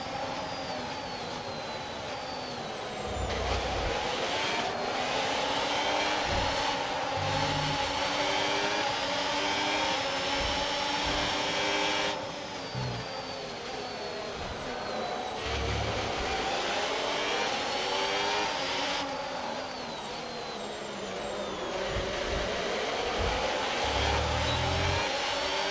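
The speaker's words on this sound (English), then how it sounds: "It sounds like a Ferrari. If this isn't a Ferrari, I don't know what is." A Ferrari Formula 1 car in the F1 26 racing game sustains a high, whining engine note, rising and falling in pitch through repeated gear shifts and accelerations over a long stretch, loud and continuous.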